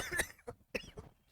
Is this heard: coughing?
yes